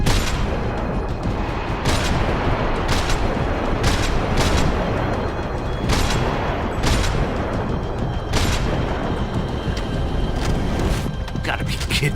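Dense, continuous gunfire from the PC video game Max Payne 3, with heavy volleys and sharper shots cracking through a loud, unbroken battle din.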